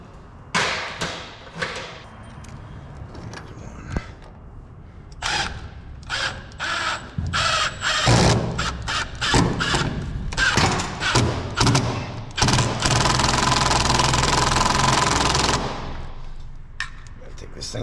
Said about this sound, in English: turn out some construction screws in there.